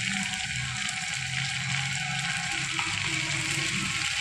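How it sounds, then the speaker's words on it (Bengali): Dried red chillies and panch phoron being stirred in hot oil, a steady close sizzle and crackle running unbroken under low kitchen hum. "মামনি এবার শুকনো লঙ্কা আর পাঁচফোড়নটা ওই তেলের মধ্যেই হালকা করে নেড়ে নিচ্ছে"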